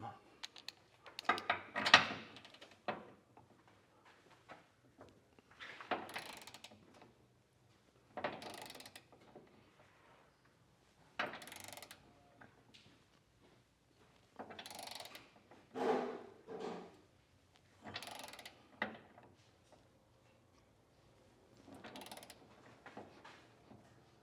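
A torque wrench ratchets on the bolts of a Curt Class III trailer hitch being fitted to a 2024 Chevrolet Colorado, in short, close bursts of rapid clicking separated by brief quiet gaps.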